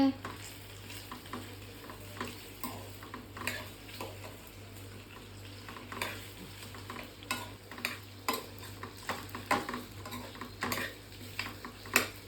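Mustard seeds popping in hot oil, a quiet close crackle of many sharp irregular pops and ticks over a low steady hum, with faint background voices.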